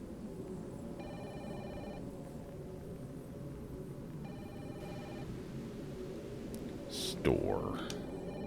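A phone rings in the horror game Fatal Frame: Maiden of Black Water, two brief trilling bursts over a dark droning ambience, followed by a short swooping noise and a faint voice near the end.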